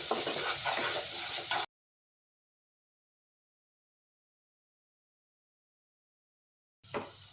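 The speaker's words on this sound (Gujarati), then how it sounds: "બધા જ મસાલાને આપણે અહીંયા સરસ રીતે સાતરી લઈશું" Ground spices, Kashmiri red chili and sev usal masala, sizzle and hiss as they are stirred in a hot pan. The frying lasts under two seconds, then drops to silence before a brief return at the end.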